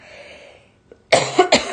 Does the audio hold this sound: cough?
yes